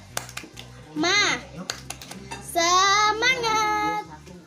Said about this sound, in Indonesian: Selanjutnya kita tepuk semangat dulu ya biar pembelajaran kita lebih semangat lagi